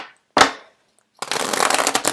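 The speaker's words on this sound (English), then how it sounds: "The cards are not shuffling too well." Tarot cards shuffled by hand: a single sharp riffle burst, a pause, then a sustained crisp flurry of card flutters close to the mic, with no talk.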